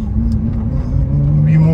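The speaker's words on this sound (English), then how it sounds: "now it's test drive time" A Lamborghini Aventador on a test drive after a clutch replacement, its engine giving a steady loud low rumble that swells slightly toward the end as it pulls along the road.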